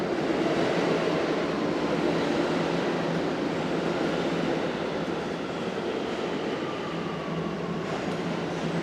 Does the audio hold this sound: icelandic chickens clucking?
no